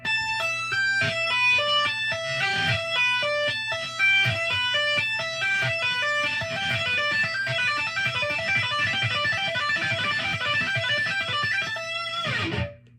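A picked guitar plays a quick run of bright notes, steady and clean, ending with a brief ringing flourish before cutting off.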